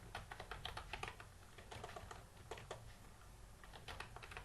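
Bootstrap HTML code being typed on a computer keyboard, with quick, irregular bursts of crisp key clicks close by and no talking.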